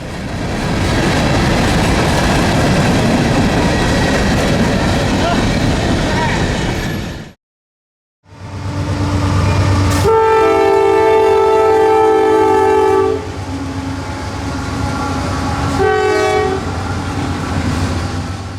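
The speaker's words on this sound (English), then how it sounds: "The rail cars just kept coming out of the dark." A long freight train of about 254 cars rumbles past close by in the dark in Folkston, Georgia, with continuous rolling wheel noise, then a loud horn sounds in long blasts and a shorter final honk.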